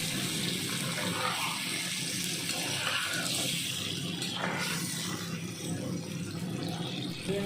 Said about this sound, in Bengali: চিংড়ি মাছগুলো দিয়ে একটু নাড়াচাড়া করে দিয়ে দেবো গরম জল